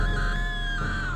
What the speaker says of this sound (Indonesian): istrinya histeris berteriak